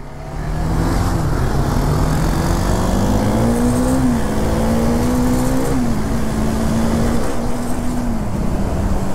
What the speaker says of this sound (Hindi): तो अभी गौरंग आ गए मेरी RC390 पे, मैं हूँ उसकी डोमिनार पे. चल आजा ड्रैग रेस करते